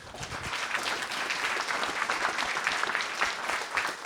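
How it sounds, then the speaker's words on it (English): Audience applause for a panel at the IPTE 2024 conference: a sustained wash of many hands clapping at moderate level, even and dense throughout with no talk over it. "Let's give them a round of applause."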